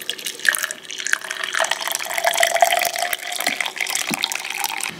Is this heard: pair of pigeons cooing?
no